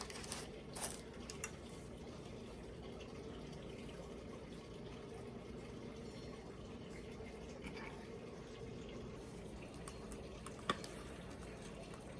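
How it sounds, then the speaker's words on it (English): A batter mixture poured over crushed Lotus Biscoff cookies for blondies, giving a soft, steady liquid pour with faint wet gushing and occasional small clinks, fairly quiet and continuous throughout. "now I'm going to pour this on top of my cookies that I had crushed"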